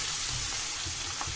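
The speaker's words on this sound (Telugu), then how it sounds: "ఇది కూడా వేసుకుని ఫ్రై చేస్తాను." Ginger-garlic paste frying in a pan for eggplant curry, a soft continuous sizzle with faint watery crackle, steady and close with no voices.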